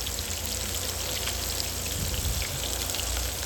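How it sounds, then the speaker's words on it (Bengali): Rui fish fry in hot oil on a stove, giving a dense, even sizzle that stays close and constant throughout with no pauses. "এবার চুলার উপরে তেল দিয়ে মাছগুলোকে ভালো করে ভেজে নেবেন"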